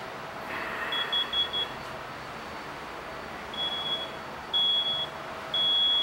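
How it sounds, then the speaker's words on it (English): A photoelectric smoke alarm chirps high in short bursts, first briefly and then longer repeated beeps, over a steady background hum. "5 seconds is all it took for the photoelectric smoke alarm to go off"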